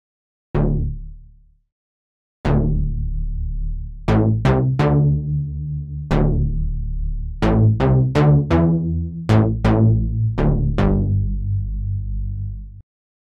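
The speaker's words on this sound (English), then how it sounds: "DIVA. It's a virtual analog synth, which sounds fantastic" A DIVA virtual analog synth plugin plays a run of bright plucked notes, loud and close, with a few single hits followed by quick clustered bursts and decaying tails, heard alone with no talking.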